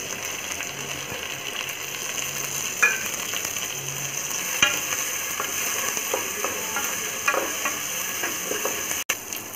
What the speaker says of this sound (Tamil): இதில் பச்சை மிளகாய், கருவேப்பிலை, பூண்டு இஞ்சி பேஸ்ட்டு, இது எல்லாத்தையும் போட்டு நல்லா பச்சை வாசனை போகிற வரைக்கும் வதக்கிக்கணும்.